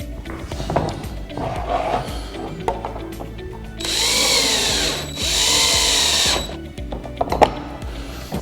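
Power drill driving 5/8 flathead screws into a NorthPoint base corner cabinet, two sustained whirring bursts of a few seconds each, close and loud, between quieter handling knocks and clatter.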